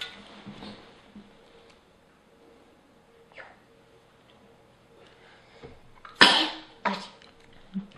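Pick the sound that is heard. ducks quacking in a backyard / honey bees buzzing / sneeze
sneeze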